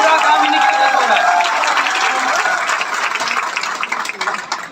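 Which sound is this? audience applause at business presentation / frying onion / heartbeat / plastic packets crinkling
audience applause at business presentation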